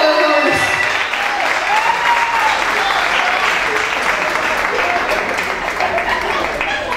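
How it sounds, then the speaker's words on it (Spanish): A crowd at an album launch concert applauds loudly and steadily throughout, with the dense clapping filling the whole stretch and a voice faintly present underneath. "Un aplauso por favor para este."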